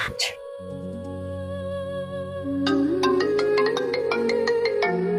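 A phone ringtone plays a tonal melody, first sustained notes then a brighter rhythmic repeating pattern, loud and close.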